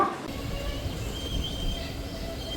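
Steady low rumble of a train stopping at Roha railway station, with a faint high squeal running over the continuous mechanical noise.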